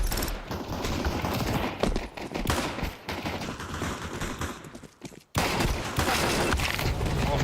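Counter-Strike 2 gunfire: rapid bursts of shots and clattering mechanical sounds, loud and continuous, with a brief drop to silence before the firing and action resume.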